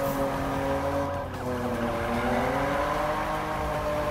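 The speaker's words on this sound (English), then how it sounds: "Drifting." A car drifts in the Need for Speed (2015) racing game, its engine droning steadily while tires squeal and skid through a long slide, loud and close throughout.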